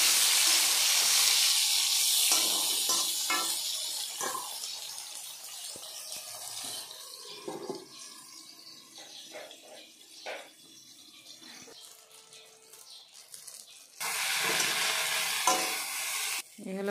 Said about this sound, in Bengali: আর এদিকে বেগুন ভাজা বসিয়ে দিলাম।